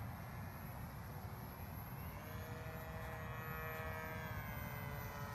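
A small model airplane engine, on a boxwing model, drones at a distance with a steady, high buzzing whine, faint and continuous against background noise.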